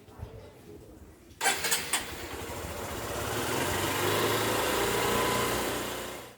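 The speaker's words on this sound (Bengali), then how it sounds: "এবার জাস্ট 2 মিনিটের জন্য আমি ইঞ্জিনটাকে আবার আইডলিংয়ে রাখবো, যাতে নিউ ইঞ্জিন অয়েলটা পুরো ইঞ্জিনে সার্কুলেট করে" A car engine idles steadily after an engine flush and fresh oil change, a continuous mid-level hum following a brief burst of clattering noise near the start.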